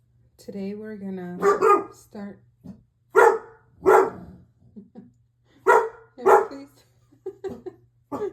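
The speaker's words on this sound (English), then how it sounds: "excuse my dog who apparently wants to participate in this video as well" A household pet dog barks a few short times in the background while someone talks close by, the barks mixed under and between her speech.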